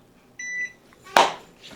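A kitchen timer on an oven set to 350 emits a short electronic beep, followed by a sharp button click, close and loud in a quiet kitchen.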